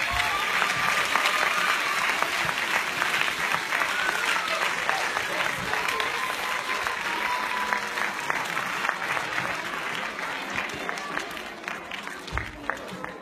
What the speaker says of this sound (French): Je vous demande d'applaudir tout le monde, s'il vous plaît.